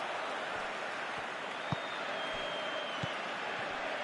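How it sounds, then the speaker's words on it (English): Football stadium crowd applauding at a match, a broad distant wash of clapping and crowd noise held at low level throughout, with a few faint thuds standing out. "Crowd appreciates good football all round there."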